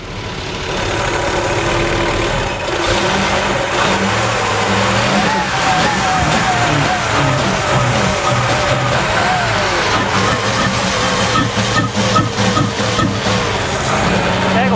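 A Range Rover Classic engine runs steadily after coming off choke, a loud, even idle with a low rumble that holds throughout, close to the listener.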